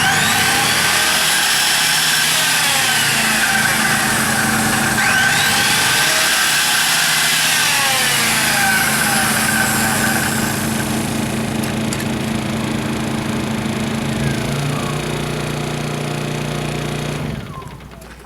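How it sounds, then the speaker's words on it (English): A saw running on power from two Honda EU2000i generators in parallel: a loud, close, steady whine with engine hum that holds for most of the run, then drops away sharply near the end. "If I go ahead and start the saw again, it ought to come up to speed a whole lot faster"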